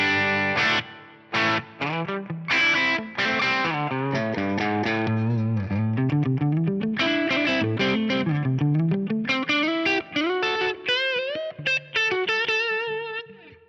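A distorted Marshall-style electric guitar tone from an Axe-Fx III, played through a dark London plate reverb set below 15% mix, with melodic bends and sustained notes trailing into a soft wash.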